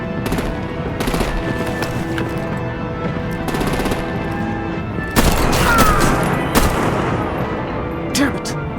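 Bursts of automatic gunfire and heavy weapon fire crackle through a Batman video game battle scene. Rapid volleys repeat in clusters, loud and close, with sharper cracks near the end.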